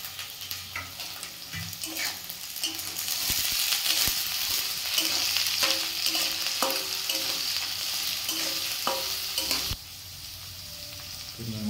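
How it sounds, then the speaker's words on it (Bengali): Vegetables and peas stir-fried in a pan for egg fried rice, a continuous sizzle broken by repeated clicks and scrapes of the spatula, steady and close, with no talking. "মটরশুঁটিটা দেওয়ার পরে একটু নাড়াচাড়া করে আমরা তুলে নেব।"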